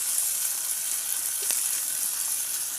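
Onion, ginger and spices sizzle steadily in hot oil in a pan while cooking meat, a constant soft frying hiss with no talk.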